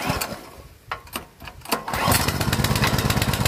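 A Bamboo B-200 sprayer engine is pull-started: a few rough, uneven tugs and sputters, then it catches and settles into a loud, steady, rapid putter close by.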